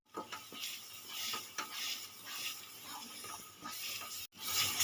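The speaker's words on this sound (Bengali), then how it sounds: "সর্ষে পোস্ত পেস্ট দিয়ে দেব দিয়ে একটু নেড়ে চেড়ে নেব" Prawn masala in a pan over a gas stove, with a mustard and poppy seed paste for daab chingri, stirred with a utensil that gives repeated scraping and clinking sounds over a steady sizzle. It stays moderately close, and nobody speaks.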